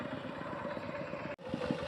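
On a flooded rural road after a heavy storm, a vehicle's engine chugs steadily at close range with a throbbing, idling rhythm and a brief drop in the middle. No one speaks.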